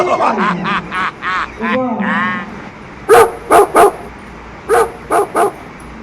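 A dog barks loudly and close in two bursts of three sharp barks each, separated by a short pause, after a voice speaks at the start.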